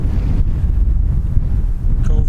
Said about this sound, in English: Very windy, hope you can hear me.